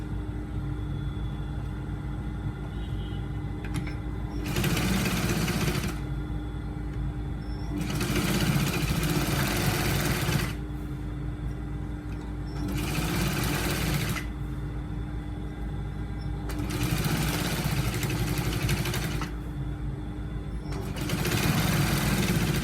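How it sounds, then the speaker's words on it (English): A sewing machine stitches the edges of a shirt collar, running in several bursts of steady rapid whirring separated by quieter pauses over a constant low hum. "So after ironing the collar, I'm going to stitch it. Just going to stitch the edges around."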